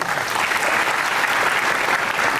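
A concert audience cheers on the band and its musicians with dense, steady applause, a loud continuous wash of many hands clapping at once, close and unbroken throughout.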